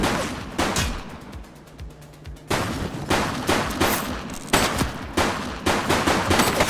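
Rapid bursts of gunfire crackle through a shootout with police in The Precinct, volleys of shots coming in dense clusters separated by brief lulls, loud and close throughout.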